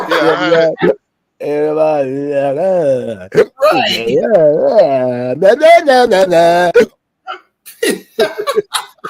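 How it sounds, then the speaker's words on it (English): A drunk man's hiccups and throaty vocal noises, close and loud, broken into short bursts with pauses between them, mixed in with his speech. "drunk hiccuping and shit."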